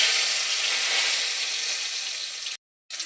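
Cardamom, cinnamon and bay leaf sizzle in hot oil with a loud, close, continuous hiss that eases slightly, then cuts out briefly before resuming.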